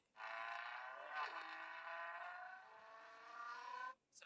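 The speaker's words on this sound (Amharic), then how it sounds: "የመኪና ድምፅ ነው የሚሰማው አይደል?" A car engine hums with a steady, droning tone for about four seconds during a sound-guessing game, swelling briefly near the start and then cutting off sharply at the end.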